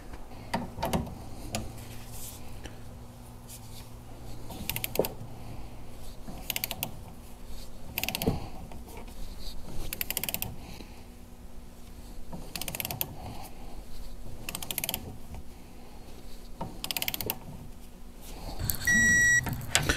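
Bolts on a Polaris Ranger lift kit being torqued to 14 foot-pounds, a steady series of quick ratchet clicks in short bursts with brief pauses, close and fairly quiet.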